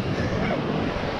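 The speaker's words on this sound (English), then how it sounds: "Walking on the beach." Surf washes onto a Maine beach in a low, continuous rumble mixed with wind buffeting the microphone, brief and steady with no voices.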